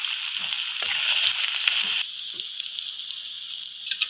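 Grated ginger and garlic hit hot oil already tempered with dried red chilli and nigella seeds, giving a loud, steady close sizzle with a few soft clinks of stirring throughout.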